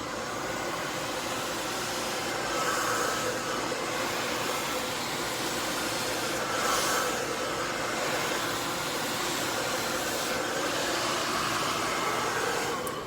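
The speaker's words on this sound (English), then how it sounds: "get your blow dryer and a big round brush" A blow dryer roars steadily and close for the whole stretch, drying a section of hair lifted on a big round brush, with slight swells in the airflow and no talking.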